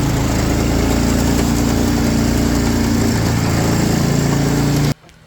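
A John Deere AMT utility vehicle carrying a mounted mini camper drives off-road, its engine giving a steady, close, droning hum that cuts off abruptly near the end.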